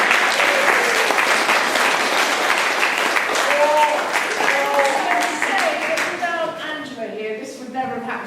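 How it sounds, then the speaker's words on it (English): An audience at a 2017 Mummers play performance claps loudly in a sustained round of applause, with a voice speaking over it and the clapping thinning toward the end. "So we have a big round of applause."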